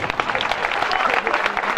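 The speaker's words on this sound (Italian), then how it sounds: "Un applauso!" Applause breaks out at a contrada dinner for the Palio del Cerro, a dense patter of hand clapping from a gathered crowd that stays steady for the short span, with some voices mixed in.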